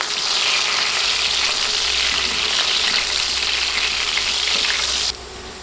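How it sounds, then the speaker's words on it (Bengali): Steady loud sizzling of potatoes frying in a pan, with faint scraping of stirring underneath, continuing without pause until it drops off abruptly near the end. "এখন নেড়ে নেড়ে আলু ভেজে নিব"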